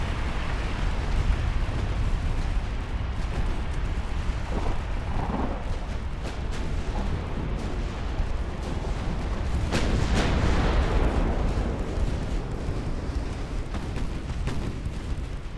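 Heavy naval battle in Ultimate Admiral: Dreadnoughts, a torpedo striking the warship Mississippi amid 1890-era hulls: a dense, continuous rumble of explosions and booming gunfire, with a sharper blast burst near the middle.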